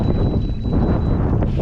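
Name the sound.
wind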